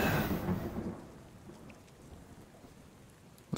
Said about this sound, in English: This rain's ridiculous.